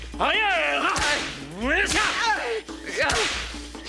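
A leather belt cracks like a whip at a snake, several sharp lashing snaps with swishing sweeps between them, loud and close, while someone shouts over them.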